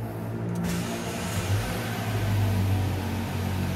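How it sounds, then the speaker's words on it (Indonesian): MG ZS car engine starting up and settling into a steady idle hum, a low continuous drone heard up close from inside the vehicle. "saya akan nyalakan mesin cuma sebentar saja"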